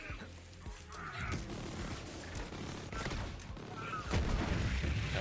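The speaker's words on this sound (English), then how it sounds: "Shoots like 2 bullets and makes those little shock explosions." A Borderlands 3 weapon that fires two bullets at a time and sets off small shock explosions keeps shooting, producing a dense, continuous run of gunfire and bursts with no pauses.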